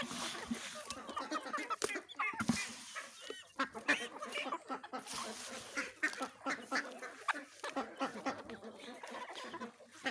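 Ducks quack and chatter in a busy flock nearby while other fowl cluck, a steady mix of calls throughout.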